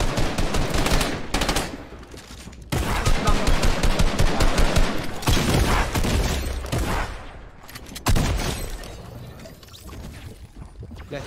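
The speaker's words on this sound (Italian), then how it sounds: "Mi spara attraverso le strutture." Rapid automatic gunfire in the Fortnite video game: loud, dense bursts of shots that repeat with brief pauses and carry on almost without a break.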